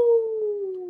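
A person's voice imitates a wolf howl during a children's musical storytime, giving one sustained, gliding tone that slowly falls in pitch, heard close and alone without speech.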